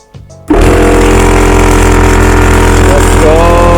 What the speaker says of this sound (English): The compressor works.